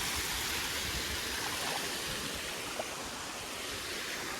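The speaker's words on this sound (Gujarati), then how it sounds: "જો આ પાણી કેવું ધમધોકાર ચાલુ છે." Water rushing hard over a slippery stream or waterfall outdoors, a steady close broadband roar that never lets up, with no talk over it.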